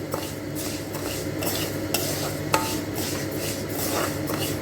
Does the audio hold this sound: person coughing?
no